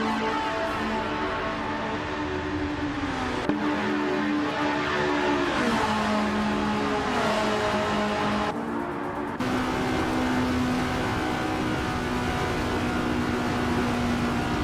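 Race cars in a racing video game roaring past continuously, loud engine whine shifting in pitch as cars accelerate and change gears, several vehicles overlapping without letup.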